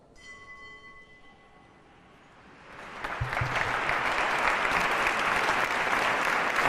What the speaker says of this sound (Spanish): La Asamblea aplaude también